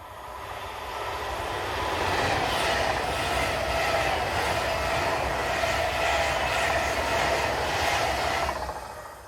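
A Class 390 electric train powers south on the line from Glasgow towards London Euston, a loud steady rush of wheels and rail noise that swells and holds for several seconds before easing away, with no voices.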